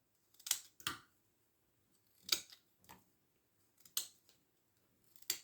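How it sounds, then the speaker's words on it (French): A knife cuts vegetables into cubes for soup: six distinct, crisp chops land in irregular pairs with short silences between, close and clear with no talking. "alors je coupe en cubes comme ça"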